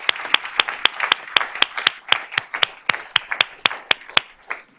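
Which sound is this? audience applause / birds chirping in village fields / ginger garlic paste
audience applause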